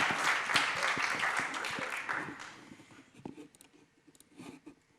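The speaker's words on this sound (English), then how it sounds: "on peut applaudir Antti et Éric" A conference audience gives a burst of applause that starts dense and strong, then thins out over a few seconds into scattered, separate claps and near-silence.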